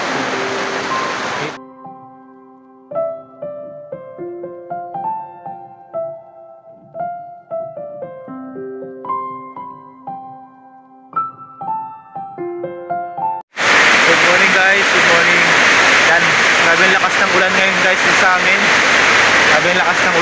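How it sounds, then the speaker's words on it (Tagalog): Gentle melodic tones play for several seconds, then an abrupt, loud, dense roar of downpour takes over and continues steadily to the end. "sobrang lakas ng ulan ngayon sa amin dito guys"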